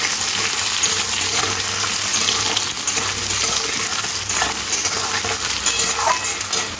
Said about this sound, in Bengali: আলুটা ওই পেঁয়াজের সাথে ভেজে নিতে হবে।